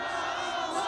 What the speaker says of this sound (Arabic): فرحة عارمة، هتافات مدوية تكاد تقطع الصوت